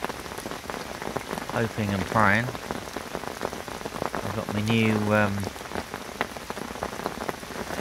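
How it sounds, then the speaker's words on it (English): Steady rain patters on a carp angler's fishing umbrella, a close, continuous hiss of drops throughout, with someone talking over it in two short bursts. "I'm safely tucked under me brolly, out of the rain"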